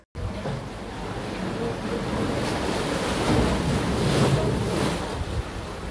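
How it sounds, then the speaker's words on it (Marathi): Sea waves wash steadily at Brahmanghal on the Anjarle coast in the Konkan at low tide, a continuous roar of surf mixed with wind buffeting the microphone. "आत्ता भरती नसल्यामुळे आपल्याला खूप मोठ्या लाटा दिसत नाहीत."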